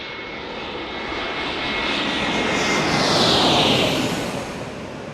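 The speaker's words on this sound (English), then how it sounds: "Delta Airlines with an A321neo here" A Delta Airlines Airbus A321neo jet passes at an airport, its broad engine roar swelling to a peak around the middle and then easing slightly. No voices are heard.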